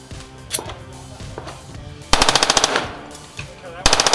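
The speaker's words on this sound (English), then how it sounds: "you can fire magazines or you can fire belt-fed machine gun" A belt-fed machine gun fires at an outdoor range during a firearms industry demonstration day, loud rapid bursts of closely spaced shots, a long burst mid-clip and another at the end, with scattered single reports between.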